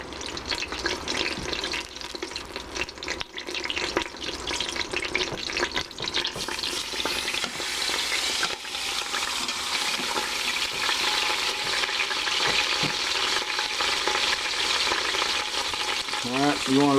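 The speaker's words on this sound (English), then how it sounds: "let it sear for a couple of minutes on each side" Chuck roast searing in hot extra virgin olive oil inside an Instant Pot, giving a steady, loud broadband sizzle and crackle throughout with no talking.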